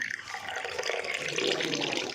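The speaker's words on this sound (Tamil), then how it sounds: "தண்ணி ரொம்ப கொஞ்சோண்டு எடுத்துப்போம். அடுத்த இதில் ஊற்றுவோம்." A small amount of water pours into a container, a steady splashing, trickling stream that builds slightly, close and fairly loud, with no talking.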